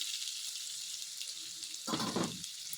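Onions frying in oil for onion kachori give a steady hiss and sizzle, with a brief louder crackling burst near the end.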